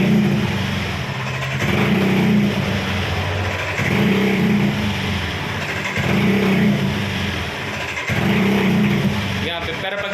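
A Honda Beat scooter with a sputtering misfire fault idles at steady throttle close by, a continuous engine drone with a gently pulsing rhythm every couple of seconds.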